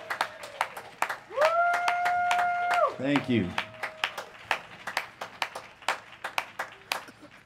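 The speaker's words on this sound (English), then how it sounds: "Can you please give them a big round of applause?" Audience applause at a jazz concert crackles as a steady spread of claps under a held chord from the band, then thins into scattered individual claps. A brief spoken thanks sits over the clapping.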